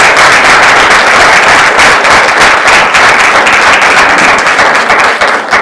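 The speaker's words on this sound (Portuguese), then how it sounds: "uma salva de palmas novamente." At the close of a competitive debate session in a Portuguese communication event, the audience breaks into loud, dense, continuous applause that fills the whole room without pause.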